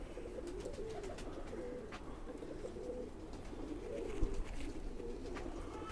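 Khaki pigeons coo steadily in soft, low, rolling phrases that overlap continuously, with a few brief higher chirps and clicks above them, close by and moderately quiet throughout.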